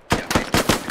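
Rapid bursts of gunfire from the video game SquadOps, five loud close shots in an uneven rhythm during a building-clearing firefight, with no talk over them.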